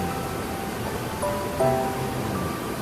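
Waterfall at Tat Moun, Sikhottabong district in Laos, heard as a continuous broad rush of falling water with no talk.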